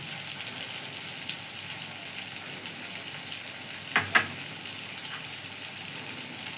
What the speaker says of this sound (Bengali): আমার আদা রসুন পেঁয়াজ টমেটো খুব ভালো করে ভাজা হয়ে গেছে, মশলা থেকে তেল ছেড়ে দিয়েছে